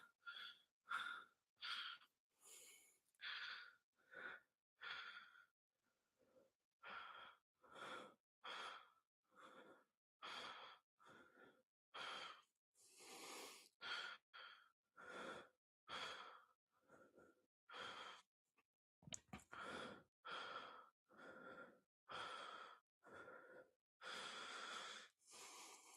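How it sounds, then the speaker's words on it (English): Heavy, rhythmic panting and sighing breaths after a strongman workout of circus dumbbell and press, repeated exhalations close to the mic across the whole stretch with no talking. "You can enjoy my heavy breathing."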